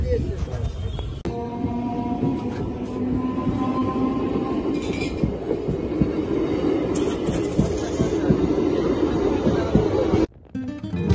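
A train rolls past a lowered railway crossing gate at Bishnupriya station, a loud, close rumble with rhythmic wheel clatter and metallic clinks filling nearly the whole stretch before it cuts off near the end.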